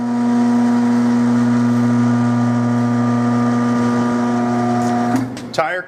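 A Corghi A9220TI tire changer machine rotates a tire with a steady, loud motor drone and hum, close by, ending in a few clattering knocks as the rotation stops.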